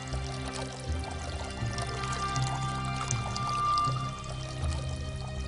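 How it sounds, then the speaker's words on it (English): Water pours steadily from one jar into another in an ancient Athenian water clock, a continuous moderate trickle and splash running throughout with a faint low hum beneath. "1 jar of water steadily running into another."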